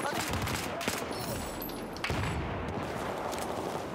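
Dense, continuous bursts of rapid video game gunfire crackle through the whole stretch, loud and busy, with a few sharper shots standing out.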